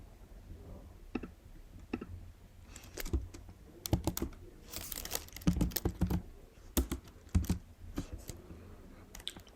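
Keys clatter on a computer keyboard as code is written for a Flutter app, scattered soft taps building into busier clusters of sharp clicks, fairly close and with no talking.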